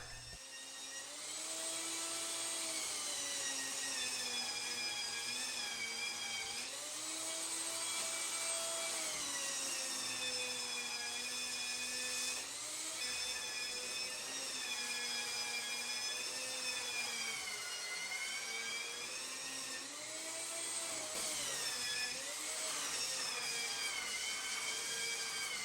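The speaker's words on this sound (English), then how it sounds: "I attempted to finish the shaping of the chine bottom rail and some of the frames with the belt sander." A belt sander whines steadily as it shapes the wooden chine bottom rail of a boat, a continuous tonal drone with slight rises and dips in pitch as pressure shifts, heard alone and at close range.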